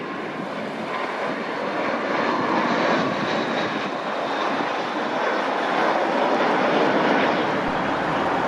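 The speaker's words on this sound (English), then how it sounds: "United 1449 comes in from Austin with an Airbus A319" A United Airlines Airbus A319 airliner arriving from Austin, a steady broadband jet roar that swells slightly and holds throughout at moderate distance, with no talk.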